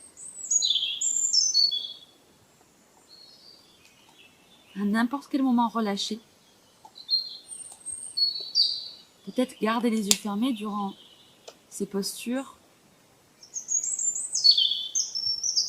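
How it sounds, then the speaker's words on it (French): High chirping birdsong comes in bursts, close and clear, alternating with a calm voice speaking softly in a quiet outdoor setting. "Peut-être si vous êtes dans votre jardin, les oiseaux chanter."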